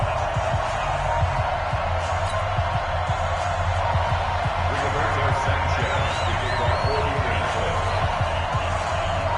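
Broadcast-style stadium crowd from a Madden NFL game before a Cincinnati Bengals versus Indianapolis Colts matchup, a steady roaring wash of spectators with scattered whoops, continuous under a commentator's talk.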